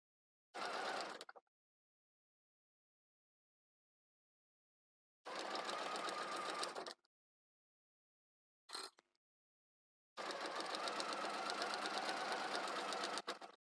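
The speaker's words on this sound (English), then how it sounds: "I'm going to stitch along the solid line" A sewing machine set to a short 1 to 1.2 stitch length runs along a seam line in four separate bursts of steady fast whirring stitching, one very short, with silent pauses between them.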